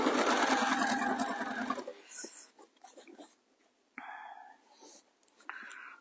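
Close, fast machine stitching on a pie crust cushion gusset runs for under two seconds, then gives way to quiet fabric handling, rustles and a few short bursts.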